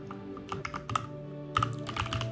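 Typing on a computer keyboard to edit a bash profile in a macOS Terminal, quick close key clicks in short bursts with a brief pause in the middle.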